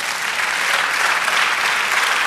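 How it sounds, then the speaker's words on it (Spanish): A burst of applause from a church congregation, dense steady clapping throughout, loud and sustained without any speech over it. "Dame un aplauso al Señor"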